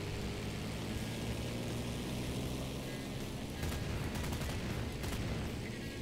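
A WWII Luftwaffe airplane's machine gun fires in Garry's Mod, short rapid bursts crackling over a steady, loud propeller engine drone that fills the background throughout.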